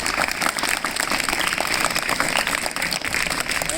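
An audience at a government school in Uchana clapping, a dense, fairly loud patter of many hands sustained evenly for several seconds without talk.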